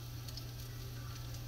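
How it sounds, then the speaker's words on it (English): Continuous sizzling of cornbread frying in a hot pan over medium heat, a steady crackling hiss with a low hum beneath. "that's a good size one, and it's sizzling."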